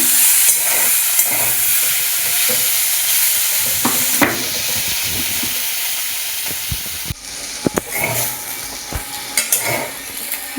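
Okra and potatoes frying together with green chillies in a pan over medium heat, a loud steady hissing sizzle with scattered stirring knocks and scrapes, close by and without speech.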